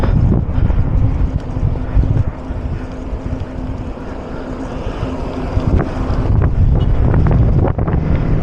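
Strong wind roars steadily across an open walkway, buffeting loudly and close with gusty swells and low rumble, no voices.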